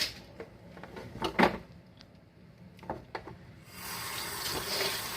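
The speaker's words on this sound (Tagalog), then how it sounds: "Hugasan ko muna tong itong lunch ko para makakain na ako mamaya." Lunch food rinsed under a running kitchen tap, a steady stream of water splashing with a few louder clatters and knocks early on, the flow growing broader and more constant toward the end.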